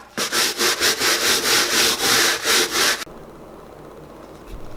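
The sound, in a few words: scrubbing dirt off a shoe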